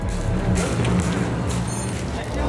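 A 1000hp Toyota Supra drift car's engine drones loudly and steadily at a drift event, a low throbbing rumble with its pitch shifting slightly as the car moves.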